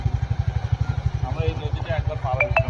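Motorcycle engines run steadily near the Jelekhali bridge over the Dhamakhali river, a continuous low, pulsing throb with faint clatter, while people talk in the background.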